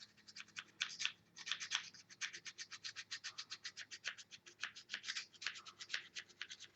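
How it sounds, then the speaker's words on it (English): Cheap, somewhat corroded pruner blade is sharpened by hand, a rapid run of rhythmic scraping strokes, close and fairly quiet, with no voices. "Boy, it's taken some work to sharpen these up."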